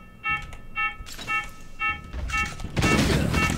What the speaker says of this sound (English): Oh, we set off the alarm.